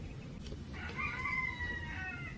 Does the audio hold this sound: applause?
no